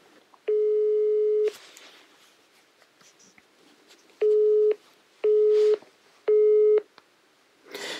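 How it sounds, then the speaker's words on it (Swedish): Telephone busy signal after a rejected call to a mobile number: a long steady tone, then three shorter evenly spaced beeps, loud and clear with quiet handling noise between. "De tryckte bort mig, de tryckte på upptaget."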